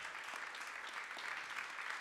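Audience at a conference on migration and rights clapping, a dense steady patter of applause heard at a distance and fairly faint.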